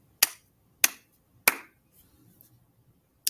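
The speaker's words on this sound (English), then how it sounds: "I'm going to clap my hands 3 times" Three sharp, crisp hand claps sound at even intervals in a quiet room, then a faint shuffle and the start of a fourth clap at the very end.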